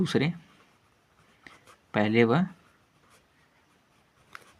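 Someone writes out a maths probability solution by hand in faint, brief, scratchy strokes between short bursts of speech.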